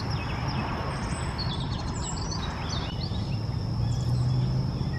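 Wild turkeys, four hens and a tom, in a suburban neighborhood give faint, scattered calls over a steady outdoor hum, with small birds chirping at a distance.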